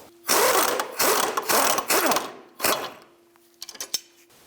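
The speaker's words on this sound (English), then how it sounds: "Now we have to take that jam nut off." A 20mm socket spins a jam nut off on a 2005-2009 Subaru Outback during a bellows boot replacement, with several rapid ratcheting runs up close, then a pause and a few short clicks.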